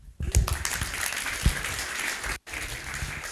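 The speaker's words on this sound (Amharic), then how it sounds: "አጨብጭቡ ለጌታ።" A church congregation claps for the Lord, dense sustained applause with a few louder claps near the start, briefly cutting out before resuming.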